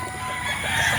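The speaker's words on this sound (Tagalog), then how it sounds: "Yan ang aming broodcock number 1." A gamecock broodcock rooster crows close by, one loud, sustained, harmonic call that fills the whole second and grows slightly stronger toward the end.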